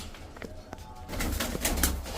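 Turibaz tumbler pigeons give soft, low coos in short bursts, faint and close, with a rustle of wings or movement partway through.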